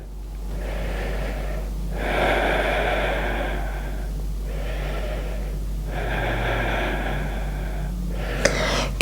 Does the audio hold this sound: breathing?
yes